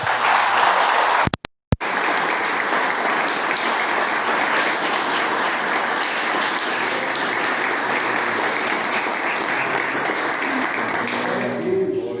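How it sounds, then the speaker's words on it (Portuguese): A church congregation applauds in praise during a worship service, sustained loud clapping with one brief cut near the start, then steady until the end. "As palmas louvam o Senhor Jesus Cristo."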